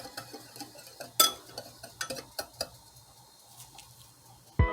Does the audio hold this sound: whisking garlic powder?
yes